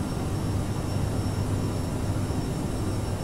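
Aerosoft CRJ 550/700 regional jet in a flight simulator, a steady, even cabin engine roar with a faint high whine, constant and unchanging throughout.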